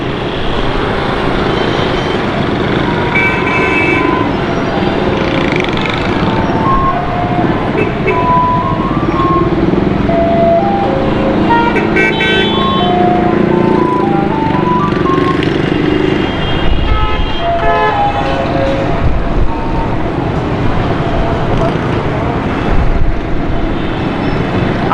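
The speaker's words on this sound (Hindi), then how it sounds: "ट्रैफिक का रश देखें आप।" Heavy traffic at the Karimabad underpass: a loud, constant engine roar and rumble with repeated car horns honking in short bursts and runs, dense and close throughout.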